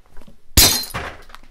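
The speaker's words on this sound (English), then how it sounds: "Little sound effect as I chuck the box over that way." A cardboard box from a Biostar TA970XE motherboard unboxing is tossed across a room and lands with one sudden loud bang, followed by a softer second thud that fades into quiet.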